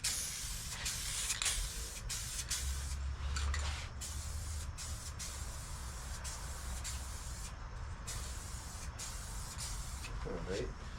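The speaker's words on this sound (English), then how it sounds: "I'm talking and I'm still damn spraying." A spray gun hisses in steady bursts while a second coat goes onto the dashboard of a 1992 Buick Roadmaster, close and continuous with short pauses, and someone talks over it.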